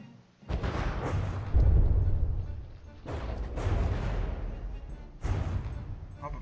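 Warship artillery in the From the Depths battle game lands hit after hit in three heavy rumbling salvos, each a deep boom that fades out before the next one strikes.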